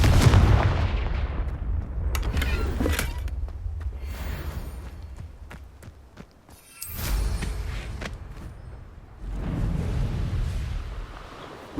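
Confringo blasting curse explosions in the video game Hogwarts Legacy, with loud booming bursts and rumbling crackle rising and falling across the clip, followed by a fresh surge of blast noise near the end.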